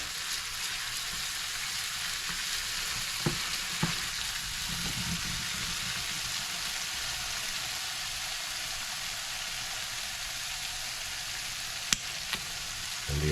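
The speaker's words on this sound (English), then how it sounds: "we're gonna let this garlic cook for about a minute" Garlic sizzles quietly in a pan with a steady hiss, broken by a few soft clicks of stirring and utensil taps, and no voices.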